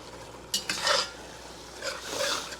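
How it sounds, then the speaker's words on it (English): A tablespoon of garlic cloves is stirred in a hot pan, giving a soft background sizzle and two brief scraping bursts as a utensil moves through the pan. "So I put in about a tablespoon of garlic cloves. Just go give those a little stir."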